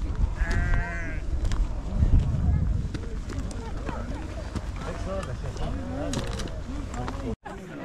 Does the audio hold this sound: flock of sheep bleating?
yes